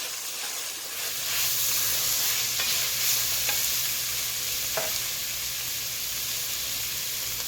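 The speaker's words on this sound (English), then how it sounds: "I'm going to put some of the tomatoes in, the cherry tomatoes. Just want these to get a little soft." Cherry tomatoes fry with zucchini in a pan while being stirred, giving a steady close sizzle with occasional scraping clicks, no voices.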